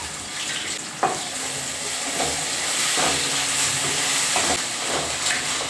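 Coriander hitting a hot pan of oil with a steady frying hiss and sizzle, a few clattering stirs over it, while shavige bath is being made.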